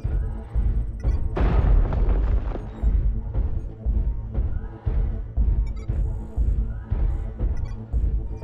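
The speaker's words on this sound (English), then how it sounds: "Artillery strike online." Repeated deep booms of artillery shells striking in a mech combat video game, a dense run of heavy blasts with rumbling tails, loud and close, one big impact near the start followed by steady rolling detonations.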